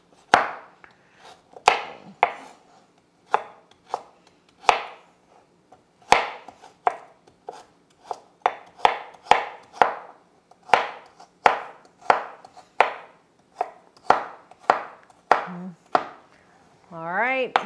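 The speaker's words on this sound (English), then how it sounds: "Get a sharp knife and a good cutting board." Leeks being chopped with a sharp knife on a cutting board for potato leek soup, a close, steady series of crisp blade knocks, some in quick runs, with no talking.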